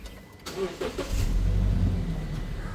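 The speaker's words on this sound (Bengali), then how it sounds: "চলুন একটু আমরা একটু ইঞ্জিন সাউন্ড কোয়ালিটি একটু চেক করে আসি।" A Toyota Land Cruiser Prado TX 2017 with its 2700cc engine starting: a few clicks and cranking bursts, then the engine catches and settles into a steady, moderately loud idle rumble, nearby.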